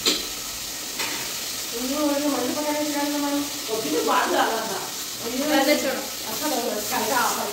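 Chicken fried rice cooking in a pan at home, with a continuous frying sizzle and occasional stirring, while people talk over it nearby.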